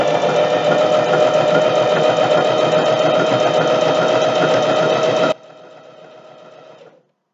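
A sewing machine stitches fabric for a jockstrap, running loud and steady at an even rate for about five seconds, then drops to a soft whir that fades out.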